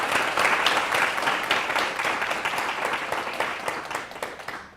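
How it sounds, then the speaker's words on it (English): An audience at a university dean's luncheon applauds Ron and Wanda with a sustained, dense round of clapping that swells early and slowly tapers off, with no one speaking. "why don't we give Ron and Wanda a round of applause of thanks for all they've already done"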